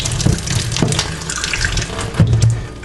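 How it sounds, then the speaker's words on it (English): Running tap water splashes over food ingredients as they are washed in a kitchen sink, a loud close rush with brief surges of splashing, no talking. "so you have to wash everything very good"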